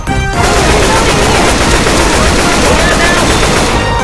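Dense, continuous gunfire with repeated shotgun blasts in the zombie shooter Left 4 Dead 2, loud and unbroken for about four seconds after a brief quieter start, with faint voices mixed underneath.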